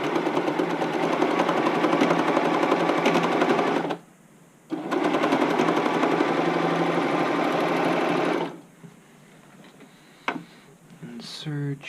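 A serger overlocks the seams of an upcycled button-up shirt, running in a steady, loud, rapid chatter for about four seconds, stopping briefly, then running again for another four before falling quiet with a few light clicks.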